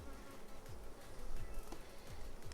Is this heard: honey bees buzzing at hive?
yes